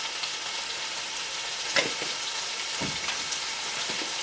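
Chicken pieces with crushed black pepper frying in a pan, a steady low sizzle with a few soft stirring scrapes, close and unaccompanied by talk.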